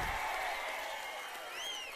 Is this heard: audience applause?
yes